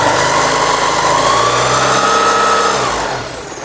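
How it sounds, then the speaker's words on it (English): A Porsche 944 engine revs up loud and close, its pitch climbing and holding in a steady mid-range drone, then falls back toward idle over the last half second, with no voices. "I do want to see what happens if I rev it up a little bit."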